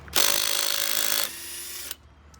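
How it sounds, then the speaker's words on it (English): An impact gun with a 19 mm socket rattles loudly on a bolt of a 2015 Ford F-150 during rear brake work, one continuous burst of about two seconds that shifts pitch partway before stopping. "So we're going to be using a 19 impact socket."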